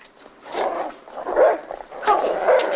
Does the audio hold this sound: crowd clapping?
no